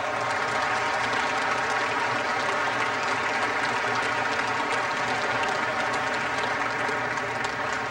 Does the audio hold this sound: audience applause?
yes